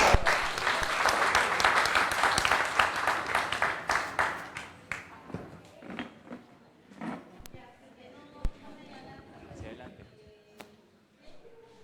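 An audience at an evening training session on Peru's constitution applauds a doctor as he is welcomed, with loud dense clapping for about four seconds that thins into scattered claps and quiet room noise.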